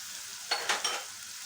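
A paste of poppy seeds, melon seeds and cashews hits a hot pan for a short sizzling burst, two or three quick hissing spurts over a quiet background.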